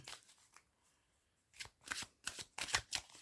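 A Celtic Goddess oracle card deck being shuffled in quick bursts of crisp riffling slaps, with a quiet pause early on before several rapid shuffles close together.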